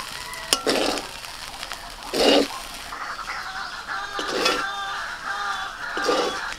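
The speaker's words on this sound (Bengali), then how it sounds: "এবার আস্তে আস্তে ভাতটাকে ভালো করে মিশিয়ে নেব।" Cumin rice is stirred and mixed in a pot with a steady soft sizzle, interrupted by several slow scraping strokes spaced about two seconds apart, close and moderately loud.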